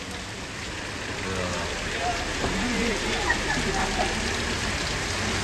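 Heavy rain falling outdoors during a festival outing, a dense, steady wash of patter that stays loud and constant throughout, with faint voices in the background.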